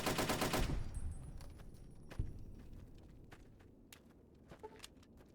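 Silenced SMG gunfire in the video game Fallout: New Vegas: a loud, rapid burst of shots opens, followed by scattered, fainter single shots and impacts.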